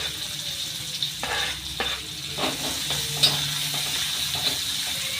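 Onion tipped into hot oil with mustard seeds and garlic, stirred and sizzling steadily up close, with scraping stirs and short spattering pops and no talk.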